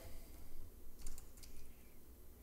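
Soft, quick keystrokes on a computer keyboard tap out a short run of text, the faint clicking close but quiet, with no voices.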